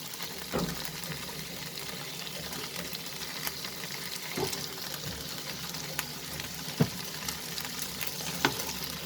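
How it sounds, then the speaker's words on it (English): Chicken and broccoli saute in a pan with a continuous sizzle, broken by occasional spatula scrapes and knocks against the metal. "Again, I'm going to saute it."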